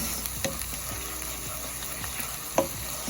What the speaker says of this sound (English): On medium heat, saute your garlic, shallots,